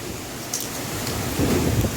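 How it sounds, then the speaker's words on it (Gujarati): Strong windstorm wind roars and buffets steadily for the whole stretch, a broad rumbling gust noise that swells slightly toward the end, with no voices. "અહીંયા તો પવન ચડ્યો છે જોરદાર"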